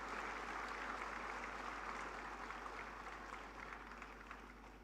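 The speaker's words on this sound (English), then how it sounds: "Let's give a warm round of applause to him." A faint, distant round of applause from an audience at a management school's annual convocation ceremony, steady and gradually fading over five seconds beneath a low electrical hum.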